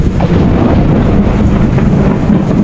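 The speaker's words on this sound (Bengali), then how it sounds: "দেখেন কি পরিমাণ বাতাস, সেই সাথে বজ্রপাত।" Loud, continuous rumbling roar of thunder mixed with strong gusting wind during a storm in Mecca, dense and unbroken throughout.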